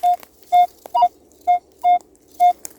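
A metal detector sweeps the ground near an old tank, sounding six loud, evenly spaced tonal beeps about half a second apart, clear and close against a quiet outdoor background.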